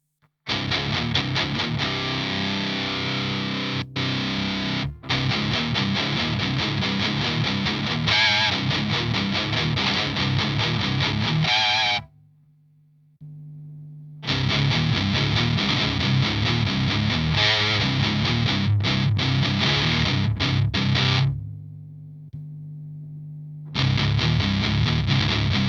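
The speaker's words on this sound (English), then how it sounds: "I'm not minding the distortion, but it's sounding just a little bit too dry" Electric guitar in C tuning through an Earth Quaker Devices Palisades overdrive, playing loud, dense distorted riffs with sustained chords, broken by two short near-silent pauses where only a low ringing note hangs.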